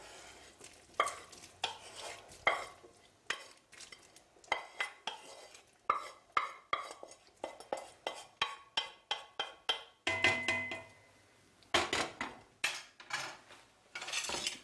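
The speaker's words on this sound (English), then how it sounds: "I'm going to add just the onions first" Onions go into a vegetable soup pot with a spoon, giving a rapid series of close scraping and clinking stirs against the pot, with a faint sizzle underneath and a few heavier knocks near the end.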